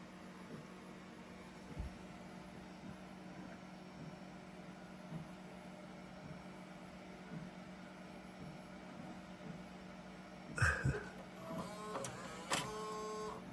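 A floppy disk ejects from the drive of a NeXT Cube computer: a quiet mechanical hum runs for a long stretch, then a short burst of clicking and whirring comes near the end, close and faint.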